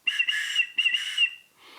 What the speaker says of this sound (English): It comes with a whistle.